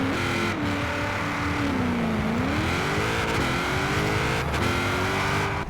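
A Ford Boss 302 accelerates in Forza Horizon 4, its engine note climbing, dipping at a gear change, then rising again in a loud, continuous roar with no voices.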